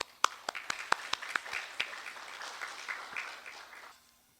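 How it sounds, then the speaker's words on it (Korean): A church congregation claps to welcome a missionary at a Sunday service, starting with a few sharp separate claps that build into a brief spread of applause and then fade out. "우리 한번 박수로 윤현 선교사님 맞이하겠습니다"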